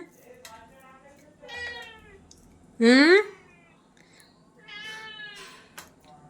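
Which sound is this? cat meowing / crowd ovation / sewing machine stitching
cat meowing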